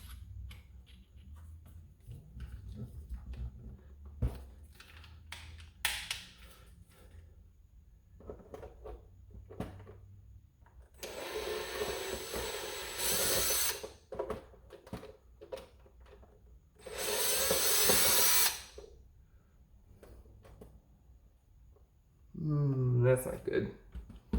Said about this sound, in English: gonna put this bit in this drill here.